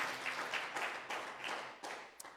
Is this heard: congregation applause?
yes